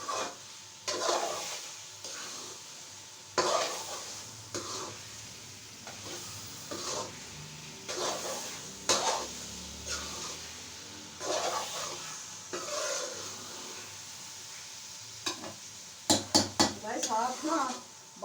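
Carrot halwa is roasted and stirred in a pan at night, giving a soft sizzle broken by repeated scraping strokes of a spoon against the pan while someone talks over the cooking.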